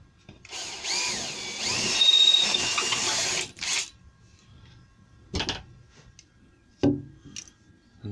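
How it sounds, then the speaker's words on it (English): A power drill whirs steadily for about three seconds as it bores through plasterboard, then stops, leaving a few clicks and knocks close by. "I drill me hole."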